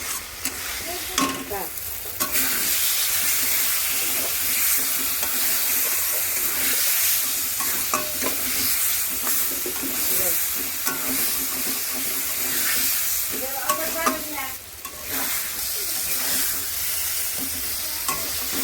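Eggplant for begun bharta fries in a pan, giving a continuous loud sizzle and hiss broken by scraping stirring strokes, close up, with no talk.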